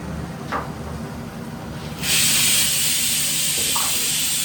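A pressure cooker in a home kitchen lets off its whistle, a sudden loud hiss of steam that kicks in partway through and holds steady to the end.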